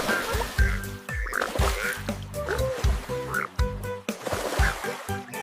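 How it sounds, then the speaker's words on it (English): Repeated frog croaks in a children's counting song, a run of rhythmic ribbit-like calls over a musical backing, loud and up front. "16 frogs go ribbit,"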